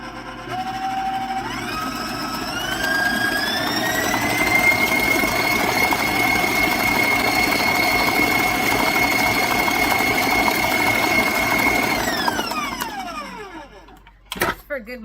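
An electric stand mixer beats chocolate chip cake batter in a bowl, a steady loud motor whir that ramps up in speed early on, holds for about ten seconds, then winds down near the end.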